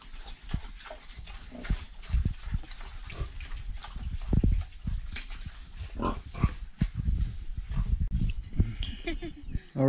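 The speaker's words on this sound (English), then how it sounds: "And we have the baby pigs." Baby pigs at a village farm near Tunja, Colombia, produce a busy stream of close grunts, squeals and snuffles, shifting and overlapping throughout, with some voices faintly mixed in.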